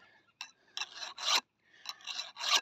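A file sharpens a chainsaw chain with forward-only strokes, giving close, harsh rasps in two quick groups of strokes, with no talk.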